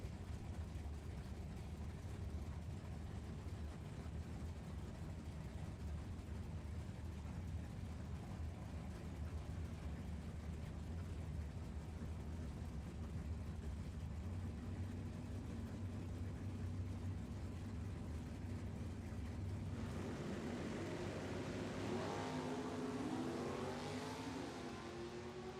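A 1973 Plymouth Duster and a Chevrolet Monza from Howard City, Michigan make a drag strip run, a steady distant engine roar holding for many seconds, then a rising high whine near the end, faint and with no voices over it.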